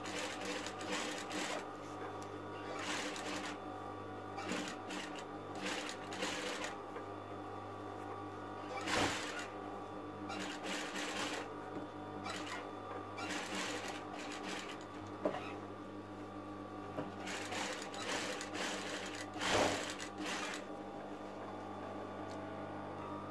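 A sewing machine stitches decorative braided trim around the collar of a half-placket shirt. Repeated loud whirring bursts of rapid stitching are separated by short pauses, with the motor close and steady throughout.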